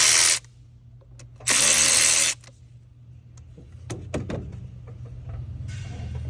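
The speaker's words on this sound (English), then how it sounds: "Now I loosen these 3 bolts on the bracket." Two short, loud bursts from a power tool loosen the fuel filter bracket bolts on a Mercedes Sprinter with the OM642 engine, followed by scattered metallic clicks and light rattling.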